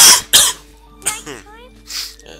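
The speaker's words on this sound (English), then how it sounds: "Sorry about my cough." A person coughs twice in quick succession, loud and close, followed by brief throat sounds and background cartoon dialogue.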